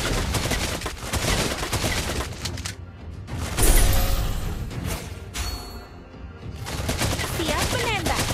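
Rapid, continuous weapon fire from Beatrix in Mobile Legends, dense clattering shots sustained across the clip with brief lulls, loud and up front over game effects.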